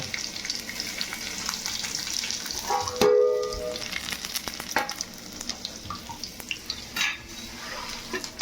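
Peeled garlic fries in hot oil in a pan, a steady close sizzle with a sharp burst of crackling when it goes in and scattered stirring clinks after, no talk.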